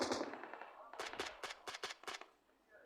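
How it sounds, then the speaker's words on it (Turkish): Gunfire in the mobile battle-royale game PUBG Mobile: a quick string of about six sharp shots in an uneven burst, close and punchy, following a brief rustle. "Arkadan sıkıyorlar."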